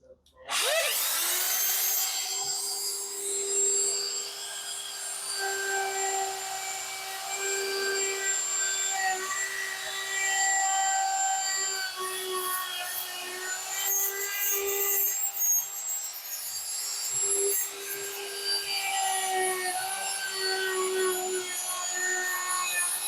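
Router cutting wood for a console build, a loud steady high-pitched whine that holds for about twenty seconds with slight wavers as it bites into the workpiece.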